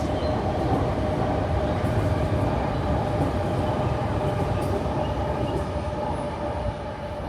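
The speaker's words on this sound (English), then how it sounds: "let's the train pass first" A Singapore MRT train passes close by with a loud, steady rumble and hum that fills the whole stretch without letup, no talk heard.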